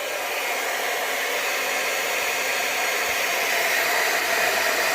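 A craft heat tool blows hot air in a steady, loud, unbroken rush, close by and alone throughout.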